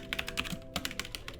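Rapid keystrokes clatter on a computer keyboard in a quick, uneven run of close, crisp clicks, fairly faint and with no talking.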